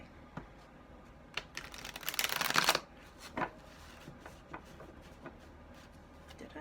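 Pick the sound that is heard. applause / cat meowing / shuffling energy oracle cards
shuffling energy oracle cards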